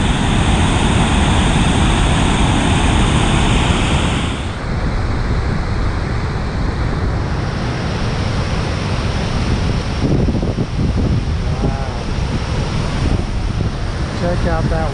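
Rushing water from a waterfall along the John Muir Trail in the Sierra, a steady broadband roar with gusting wind buffeting the microphone and brief exclamations from hikers.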